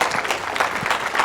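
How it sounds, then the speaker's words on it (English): Brief burst of steady clapping from an audience, dense and continuous without any voices over it. "I just want to give you a round of applause"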